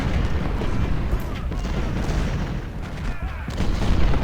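Artillery and rifle fire rumble through a Civil War strategy game battle at Malvern Hill, a dense, continuous wash of booms and crackling volleys that stays loud throughout the few seconds.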